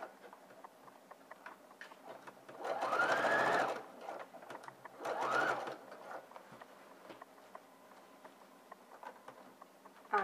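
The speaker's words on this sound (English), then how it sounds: "I'm sewing on the inside of the actual sleeve, and I'm starting from the neck point position and working my way down to the underarm seam" Sewing machine stitching a raglan sleeve seam from neckline to underarm, two short whirring bursts of stitching a couple of seconds apart, close and moderately loud, with quiet handling clicks around them.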